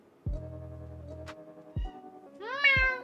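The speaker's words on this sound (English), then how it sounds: "That's a meow for the counter." A cat meows in a few short calls, close and clear against a quiet room, the last one longer and rising.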